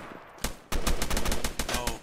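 Rapid gunfire from a woodland video game firefight, with a single shot followed by sustained automatic bursts, loud and close, with no talking.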